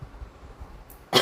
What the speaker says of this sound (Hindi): खांसी इतनी ज़्यादा हो रही है